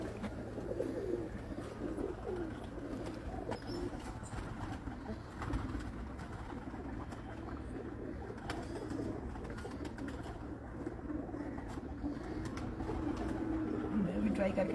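Pigeons coo in low, repeated murmurs at a rooftop pigeon loft in Hafizabad, a fairly steady throaty rumble running through the whole stretch amid background activity and occasional voices.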